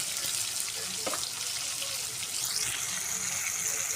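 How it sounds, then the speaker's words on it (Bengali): Fish pieces frying in hot oil give a steady, close sizzle and crackle that runs evenly through the whole stretch, with no voices over it. "আমি আরেক পিসটা মাছ ভাজে নেব"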